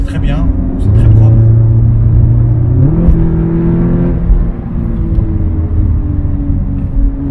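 A tuned Audi S3 8V Stage 2 rated at 380 hp accelerates with a deep, loud engine drone that climbs in pitch through the gears, heard from inside the car while someone talks over it.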